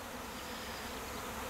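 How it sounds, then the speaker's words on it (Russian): A swarm of honey bees arriving at a hive without a queen, a dense continuous buzz of many insects close by, steady and fairly loud, with no talking. "Но это не слет, это прилет пчел."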